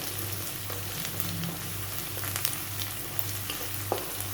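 Ginger-garlic paste sizzles in hot oil with softened green chillies and onion for a spicy prawn masala, a steady close-up crackle with faint stirring and no voices.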